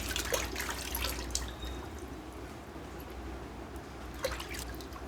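Cleaned crabs are rinsed under running tap water for a Konkan-style crab curry, giving a soft, steady splashing trickle with a few sharper drips and clatters, no voices.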